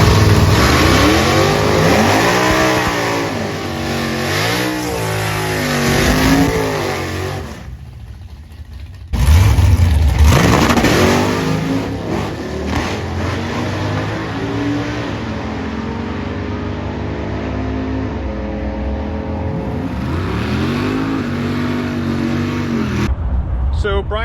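A Lucid Sapphire electric car on drag radials makes a quarter-mile drag racing pass, its drivetrain whine rising and sweeping in pitch with a loud surge near the midpoint, accompanied by speech throughout.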